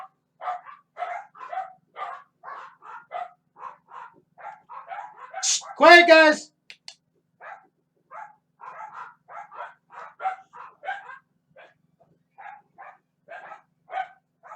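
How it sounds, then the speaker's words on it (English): Dogs bark in a short loud burst partway through, standing out over steady ongoing speech from a person talking before and after. "Sorry about the dogs."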